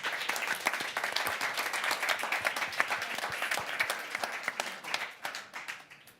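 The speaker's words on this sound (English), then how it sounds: "applause for the panel, please" An audience gives a panel a full round of applause, dense clapping that stays strong for several seconds, then thins into a few scattered claps and fades out.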